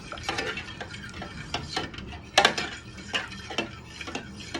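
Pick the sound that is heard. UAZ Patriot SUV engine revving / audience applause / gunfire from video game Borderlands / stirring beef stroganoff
stirring beef stroganoff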